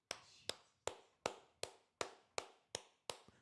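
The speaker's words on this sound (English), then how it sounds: "Golf claps for Dallas." Sparse, polite golf claps from a Dallas hockey crowd, nine separate sharp claps at a slow, steady rhythm, fairly quiet and close, with silence between each one.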